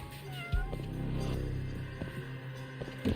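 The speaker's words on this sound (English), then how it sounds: "that's a stray cat" Stray cat meowing in the video game Judgment, a few plaintive meows at moderate level over a steady low game-background hum, no talk.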